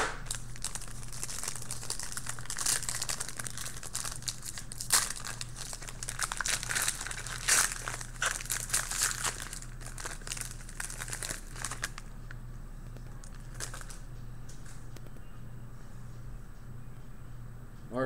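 A 2016 Playbook football card pack is torn open with sustained close crinkling and crackling of foil wrapper, bursts of tearing and rustling over a steady low hum, quieter toward the end.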